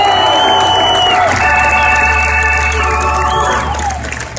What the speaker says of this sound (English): So one round of applause for those guys who really made this happen.